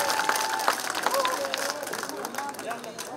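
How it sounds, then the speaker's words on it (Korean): Festival crowd at a traditional pumba performance in Korea claps and cheers steadily, mixed with shouts and a whistle-like tone and nearby chatter, continuous and fairly loud throughout. "우리 회장님이신 깡통 단장님께 큰 박수 한번 부탁드리세요."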